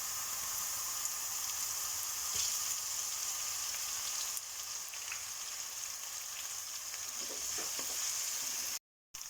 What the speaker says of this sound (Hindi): अब इसमें जाएगा अदरक लहसुन का पेस्ट।